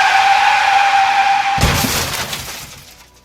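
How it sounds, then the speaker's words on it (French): A car skids with a long screech, then crashes into breaking glass and clattering debris, a loud dramatic sound effect with no talk over it. "La voiture derrière Sandra arrivait à vive allure, déboîta sur sa gauche et faucha le vieil homme qui vola dans les airs"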